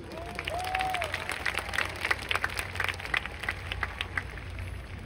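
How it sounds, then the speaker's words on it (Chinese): A huge crowd of about twenty-six thousand at an anniversary gala dinner in Kaohsiung, Taiwan, breaks into sustained applause, a broad, steady wash of clapping heard from some distance. "给你们自己本身一个最热烈的掌声"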